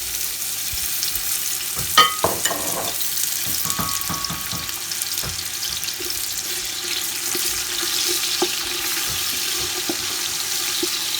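Oil heats in a pot for jollof rice, a steady, moderate hiss broken by a few clinks and knocks of cookware, with no one talking.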